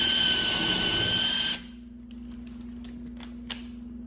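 A cordless impact driver fitted with a drill attachment runs at a loud, steady whine, then cuts off abruptly, leaving quiet room tone with a few light clicks and taps as the bit is handled.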